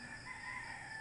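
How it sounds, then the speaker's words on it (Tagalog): A rooster crows in a long drawn-out call over faint farmyard background noise, with no one speaking. "Ito yung mga manok ko."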